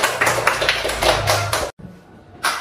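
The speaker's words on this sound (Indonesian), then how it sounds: "Tepuk tangan untuk kita dulu" Schoolchildren in a special-needs classroom clap in quick, uneven bursts for about a second and a half, stop abruptly, then start clapping again at the end, close and fairly loud.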